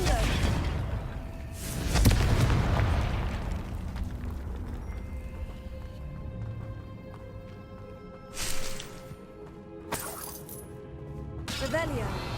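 In Hogwarts Legacy gameplay, several booming, crackling spell explosions from the Confringo fire spell burst out at intervals over ambient game sounds and rumbling.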